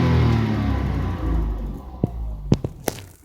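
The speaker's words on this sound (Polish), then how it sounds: "Posłuchajmy, jak na obroty wchodzi." A 2008 Toyota Yaris II with a 1.0 litre petrol engine revs up near the mic, a steady droning rise that fades out, followed by a few sharp clicks and knocks.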